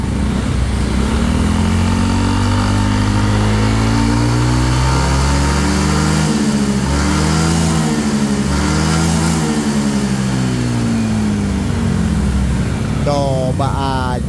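Yamaha NMAX with an enlarged-bore engine and custom 28-50 exhaust header, revving loudly and continuously up close, engine pitch rising and falling through repeated throttle blips.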